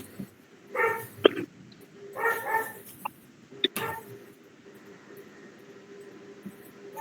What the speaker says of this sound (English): Please take that dog far away. Noise is entering.